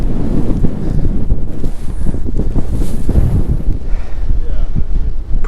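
Strong wind buffets the microphone on a high sea-cliff edge in the Faroe Islands, a loud, gusty roar that rises and falls steadily across the whole stretch, with no talking.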